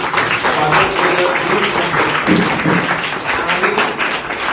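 Teachers and children give steady, sustained applause at a welcome event for newcomers held in the rain. The dense clapping fills the whole stretch, with voices mixed in.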